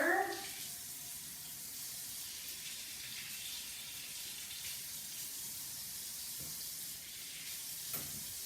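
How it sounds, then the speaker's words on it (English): Water runs steadily from a kitchen tap in a constant broad rush, with a faint clunk near the start and a small knock near the end. "And now I'm just going to turn my tap on for warm water."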